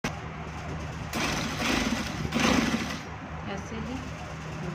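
A sewing machine runs steadily while stitching along the edge of a men's kurta band, its mechanical hum rising in two louder bursts, with a voice talking over it.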